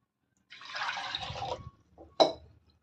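Water is poured into a pot of pithaka pappu, a lentil curry made with field beans, in a home kitchen. A splashing pour of about a second is followed by a few brief drips and splashes, close by.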